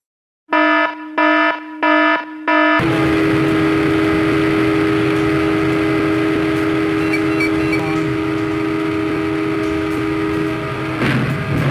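A train horn blares in four short, loud blasts, then holds one long sustained blast over the rumble of an approaching train, with a sharp burst near the end.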